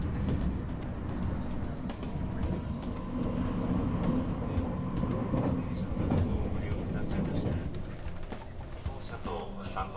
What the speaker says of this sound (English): it's easy to get down to where the forestry tour is by catching a local train